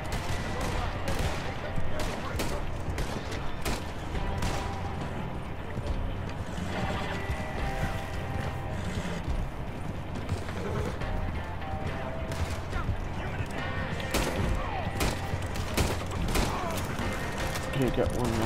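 Gunfire in Red Dead Redemption 2, scattered sharp shots popping repeatedly over a steady bed of game ambience, with horse hooves clip-clopping and people talking throughout.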